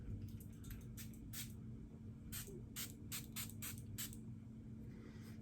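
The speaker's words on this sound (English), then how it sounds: "Just spray it on instead of using a regular toner." Facial toner misted onto a face from a spray bottle in a series of short, soft hissing pumps, some in quick pairs, over a quiet room hum.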